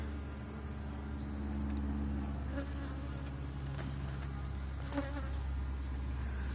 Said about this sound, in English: There's bees up there.